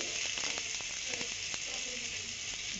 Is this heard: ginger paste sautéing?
yes